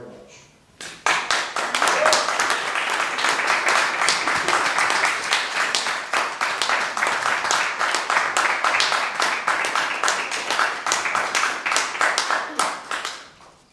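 An audience at a Fairfax town hall meeting breaks into loud, sustained applause, steady clapping that fills the room for over twelve seconds before tapering off at the end.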